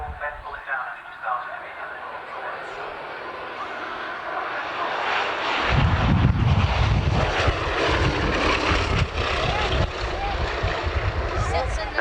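A twin-engine Bristol Blenheim IV propeller plane drones past at an airshow, its engine roar swelling and staying loud through the second half, with an announcer talking over the public address the whole time.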